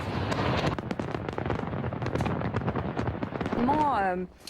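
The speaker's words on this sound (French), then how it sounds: "Regardez ces images de feux d'artifice à travers le monde." Dense rapid crackling and booming bursts of New Year 2023 fireworks on the Champs-Élysées, loud and continuous, with a shrill whistling rise near the end and crowd noise underneath.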